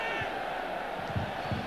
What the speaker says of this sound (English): There's a large crowd here on Monday just to watch them train.